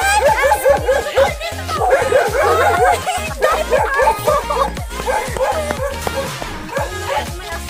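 A dog barks repeatedly in loud, close, rhythmic yaps and yips along a residential street in Bayambong, with a person talking and chuckling over the barking.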